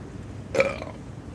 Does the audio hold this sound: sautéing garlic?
no